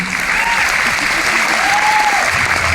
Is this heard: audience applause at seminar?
yes